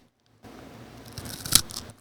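Cheetos are crunched right at the microphone for ASMR, giving a brief burst of crisp crackling with one sharp loud crunch near the middle.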